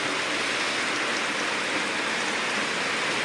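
Steady rain falls without pause in a dense, even hiss that fills the whole stretch at a constant loudness, with no voices over it.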